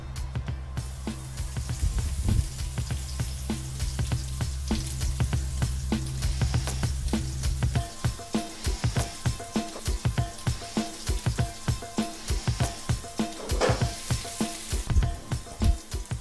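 Garlic slices frying in a pan hiss steadily at first under a low hum, then settle into a lighter crackle with clusters of sharp pops and spits.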